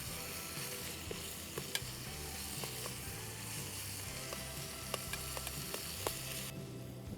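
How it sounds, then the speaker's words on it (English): Steady, close sizzling and crackling of food frying in a pan on a Trangia 27 Series camping stove, continuous throughout with a few sharp pops and clicks. "There's definitely some sizzle"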